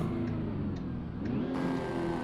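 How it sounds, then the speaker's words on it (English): Truck engine in American Truck Simulator with the engine brake working, a steady mid-pitched diesel drone holding close and even, with faint periodic clicks before the tone shifts partway through. "definitely going to need the help of the engine brakes here."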